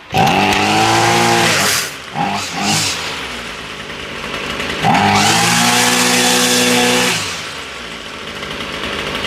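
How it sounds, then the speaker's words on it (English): A Ryobi string trimmer engine runs on choke, revving loudly in two long bursts separated by a brief sputtering dip, with the engine note rising and falling in pitch. "Now the choke's off and she's running a whole lot better."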